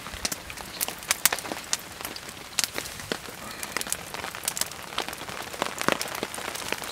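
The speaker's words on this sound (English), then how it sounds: "Still raining, not too hard." Rain pattering on a tarp over a campsite, a light steady hiss broken by frequent sharp close drips and taps at irregular intervals, with no talking.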